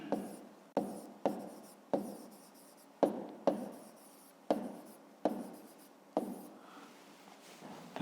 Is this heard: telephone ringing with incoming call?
no